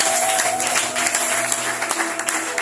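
Church congregation at a French-language seminary service applauding to cheer the Lord, a dense burst of clapping from many hands close by, steady and loud for a couple of seconds.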